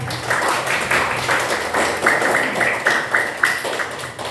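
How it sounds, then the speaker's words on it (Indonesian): Classroom applause, a steady patter of many hands clapping in a room with a faint background hum, moderately loud and continuous throughout. "Tepuk tangan dulu untuk Daita."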